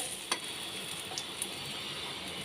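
An egg frying in a pan for egg curry gives off a constant soft sizzle, with a few faint ticks and taps from stirring.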